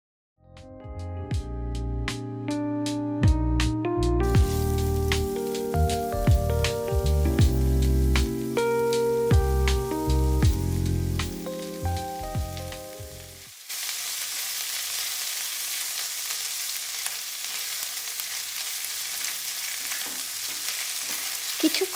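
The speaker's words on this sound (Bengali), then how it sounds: "একই তেলে তেজপাতা ফোড়ন দিয়ে দিয়ে দেব থেতো করা আদা আর লঙ্কা" Bay leaf, crushed ginger and chilli frying in oil for a dhaba-style kadai paneer curry. The steady, loud sizzle starts partway through, following a stretch of music, and then continues on its own.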